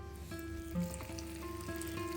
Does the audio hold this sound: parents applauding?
no